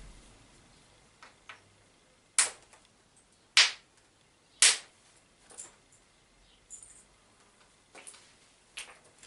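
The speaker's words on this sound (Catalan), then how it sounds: "Aquí he tret un ascla en forma de punta" Sharp stone-on-stone strikes from flint knapping to detach a pointed flake for a Paleolithic-style spear point, three loud cracks near the middle followed by several lighter taps, with quiet pauses between.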